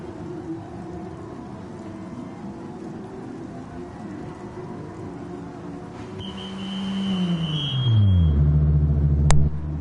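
Porsche Cup race car in Gran Turismo Sport pulling into the pits at Austria, engine rumble steady then dropping in pitch as it slows, a high whine and a sharp click near the end.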